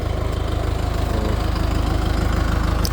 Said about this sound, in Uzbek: traktorimiz keldi mana